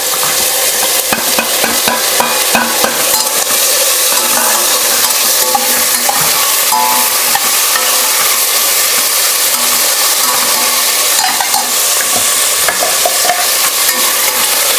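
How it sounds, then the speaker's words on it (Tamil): Tomato, tamarind and garlic sautéing with onion in a pan: a loud, constant close sizzle with busy stirring scrapes and spatula clatter throughout, no talking. "இப்போ தக்காளி லைட்டாக வதக்கியாச்சு."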